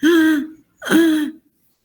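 A voice imitates stridor breathing, the harsh noisy inspiratory sound of laryngitis in children, with two close, loud, drawn-out voiced rasps, each about half a second, with no other talk.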